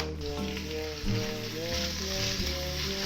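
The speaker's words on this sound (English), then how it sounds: "Get all those onions covered in this ghee" Onions frying in ghee in a pan for sag paneer, a dense continuous sizzle and crackle at steady volume with faint stirring, close up and without voices.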